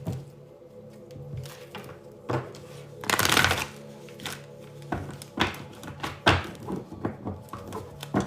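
Someone shuffles a deck of tarot cards close by, with repeated riffling bursts and soft slaps between quieter pauses in an uneven rhythm.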